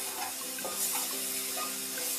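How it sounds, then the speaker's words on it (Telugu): Onion paste frying in a pan over a medium flame, a steady close hiss and sizzle with faint stirring clicks, running continuously without pause. "ఇట్లా 3-4 నిమిషాలు ఈ ఉల్లిపాయ పేస్ట్ బాగా ఫ్రై అవ్వాలండి. మీడియం ఫ్లేమ్లో పెట్టుకుని ఫ్రై చేసుకోవాలి."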